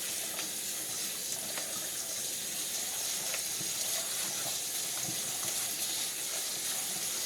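Rice is rinsed under a steady stream of tap water, a continuous soft hiss and splash in a kitchen sink, faint and even with small irregular trickles and no talking.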